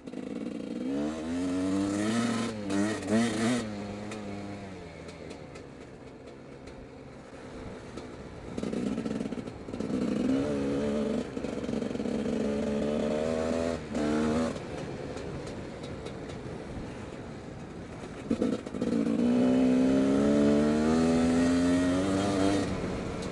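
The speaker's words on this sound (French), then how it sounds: "Je mets qu'un filet de gaz. La moto sinon elle brûle." A motorcycle engine runs at light throttle on rural tracks between fields, a steady mid-level drone that rises and falls in pitch with small throttle changes, continuous throughout with no talking.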